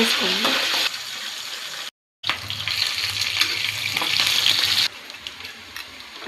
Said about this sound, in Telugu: కొంచెం దాల్చిన చెక్క, సన్నగా దరుక్కున్న పచ్చిమిర్చి రెండు ఇట్లా ఫ్రై చేసుకోవాలి